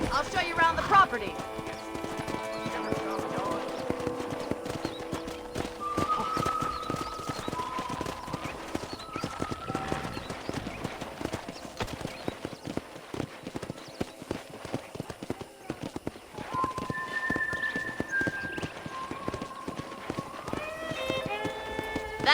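Horse hooves clip-clop in a steady running rhythm in Red Dead Redemption 1, alongside game-style musical tones, with a voice talking over parts of it.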